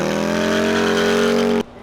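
A Harley-Davidson Gen 2 Milwaukee-Eight motorcycle engine revving up nearby, a loud sustained rising drone that cuts off abruptly near the end.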